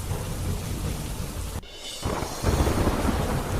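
Heavy monsoon downpour over Junagadh, a steady loud roar of rain with a rumble of thunder, briefly dipping before the dense hiss returns even stronger.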